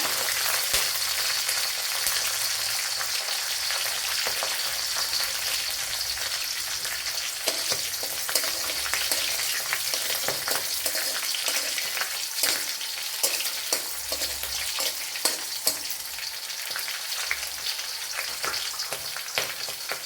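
Garlic and green chillies sizzle steadily in a hot pan of oil for a potato and okra masala, a dense crackling hiss with scattered sharp pops throughout and no talking.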